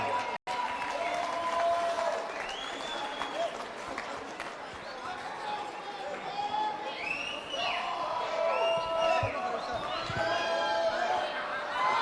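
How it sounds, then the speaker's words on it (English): Crowd applause at a live boxing fight night, moderately loud and continuous, with a commentator talking over it and some cheering and chatter. "big round of applause for his opponent, Omar Aguilar."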